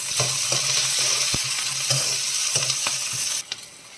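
Chopped onion and green chillies fry in hot oil for a brinjal and tomato curry, a continuous bright sizzle punctuated by regular rhythmic spatula scrapes. It is close and uninterrupted by speech, easing off near the end.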